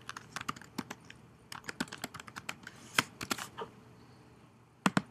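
Close, crisp clicks of typing on a computer keyboard come in quick irregular bursts, with a couple of sharper, louder keystrokes near the end and no talk.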